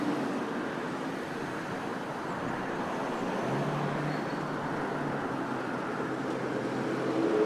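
Road traffic rushes past in a constant broadband wash of tire and engine noise, moderately loud and unbroken, with a faint low engine hum entering midway and no talk.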